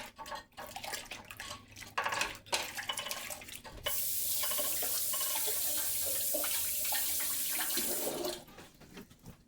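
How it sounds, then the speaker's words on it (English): A kitchen sink tap runs steadily as hands are washed between cooking steps, a close, even rush of water lasting several seconds and set among nearby handling noises and clatter. "Wash my hands again."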